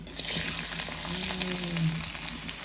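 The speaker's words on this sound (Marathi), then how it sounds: "बरी तडका दिवपा खातीर लसूण मातशें घालता" Onion, garlic and mustard seeds fry in hot oil for a tempering, giving a loud, continuous close sizzle with crackling pops, plus a brief tonal hum from a nearby appliance.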